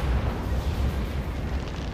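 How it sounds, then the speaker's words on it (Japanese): An explosion in the video game Resident Evil Revelations, aboard a ship: a loud, dense, rumbling roar that fills the whole two seconds without any speech. "爆発したぞ。"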